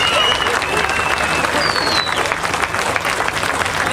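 Crowd applauding at a 1988 strongman competition, a loud dense wash of clapping and cheering that carries on steadily throughout.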